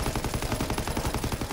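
Rapid bursts of automatic gunfire from Call of Duty: WWII Nazi Zombies rattle in a fast, even rhythm, loud and close, with no talk over them.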